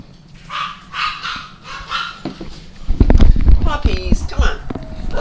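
Puppies barking and yipping in several quick, excited bursts close by, the yaps piling up toward the end while a person talks over and between them.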